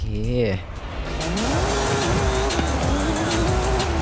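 Racing car engine in Forza Horizon 5, droning steadily with rising and falling revs and some tyre noise, loud and continuous after a brief tonal intro.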